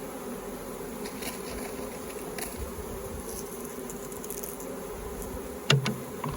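Bees buzzing around an open hive while a package of bees is installed, a soft, continuous hum of many insects with a few louder passes close by and a brief thump near the end.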